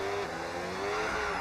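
A race car engine in the F1 26 video game drones at steady high revs, a continuous buzzing whine with shifting harmonics, no voices.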